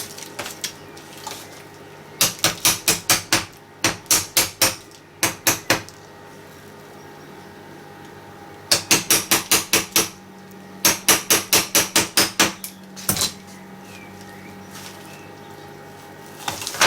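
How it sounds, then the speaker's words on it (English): Bursts of sharp, rapid hammer blows in quick runs of five or six strikes, separated by short quiet pauses, close and loud with no talking, during silicone and plaster mold making. "That's my hammer."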